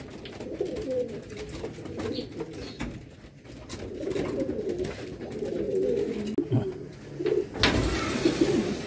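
Low, throaty pigeon coos murmur steadily throughout, several stock birds overlapping in a continuous burbling chorus with some rustling and a brief noisy burst near the end.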